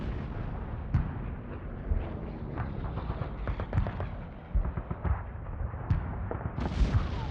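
Heavy naval gunfire and aerial bombing pound the island of Iwo Jima, a dense continuous rumble of blasts with sharp detonations standing out near the start, middle and end, loud and unbroken throughout.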